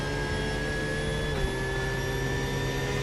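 GT3 race car engine in the iRacing sim game: a steady, droning engine note with a high harmonic whine, holding constant with a slight pitch drop partway through, no talking.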